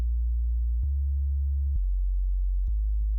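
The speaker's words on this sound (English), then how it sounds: "Then obviously you will need a sub bass. You're just gonna use free oscillator and follow the bass progression you made earlier." Pure synth sub bass from a free oscillator playing a phonk bass progression, a deep sine tone stepping between sustained low notes with small clicks at each change, steady and alone.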